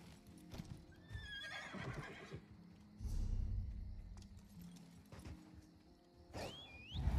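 Horse whinnies in Elder Scrolls Online, a rising neigh near the start and a second sharp whinny near the end, with hoof clip-clop and ambient game sounds in between.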